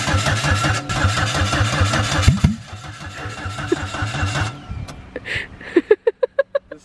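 A car engine on a custom subframe build runs rough and loud, misfiring with an uneven, stumbling idle that drops off, then ends in a string of sharp, evenly spaced pops.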